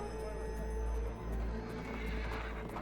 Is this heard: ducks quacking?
no